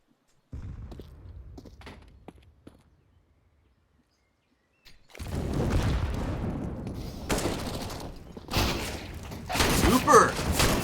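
Bursts of gunfire from pistols and a Mag 7 shotgun in a Counter-Strike match on the Inferno map, sharp dense shots clustering in the second half over loud game noise, with quieter scattered thumps before a short lull.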